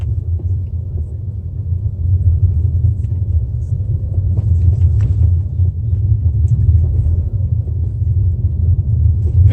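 A 2020 Kia Sportage SX 2.0L turbo AWD drives slowly over rounded, curvy off-road bumps, heard as a steady, loud, low rumble inside the cabin with no sharp jolts or bangs.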